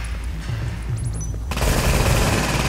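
Sustained automatic gunfire from a firefight in the PC game The Division erupts about halfway through. It forms a dense, loud, continuous burst of rapid shots over a game background, following a few brief high electronic tones.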